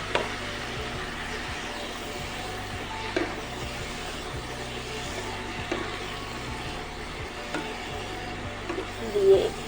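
Ginger, garlic and green chilli paste sizzles in a pan with fried vegetables, a steady faint frying hiss with scrapes and stirring knocks throughout, and no talk.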